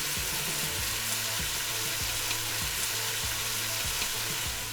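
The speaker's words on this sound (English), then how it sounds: "get the veggies working and sweating and softening" Vegetables sweat and soften in a soup pot with a dense, even sizzle that stays loud and constant from start to finish, over a faint regular low thumping. Nobody speaks.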